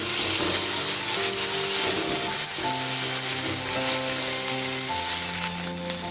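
Ginger and green chilli paste hitting hot oil in a pan for a Bengali potol chingri curry, a loud, continuous close sizzle with sustained tonal ringing, easing slightly at the end.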